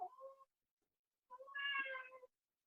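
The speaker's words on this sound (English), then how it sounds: "The sounds of my kitty cat welcoming you back from the silence." A pet cat meows twice, a short call followed by a longer, rising and falling meow, close and clear against silence.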